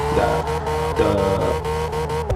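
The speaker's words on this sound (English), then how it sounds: "So I'm gonna show you guys right now what happens if you use too much handbrake for transition or for braking." A car in CarX Drift Racing slides through a drift with too much handbrake, its game engine droning steadily with tire squeal rising and falling over about two seconds, loud and continuous with no talk.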